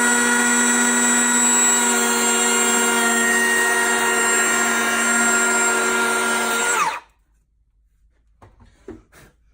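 A Ridgid Octane hand planer cuts a chamfer along a board, giving a loud, steady high-pitched motor whine for about seven seconds before it stops abruptly. A few faint knocks follow in the near silence.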